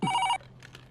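A loud telephone ring cuts off abruptly early on, followed by faint background noise.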